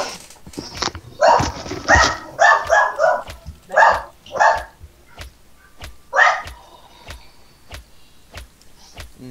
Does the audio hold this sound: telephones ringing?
no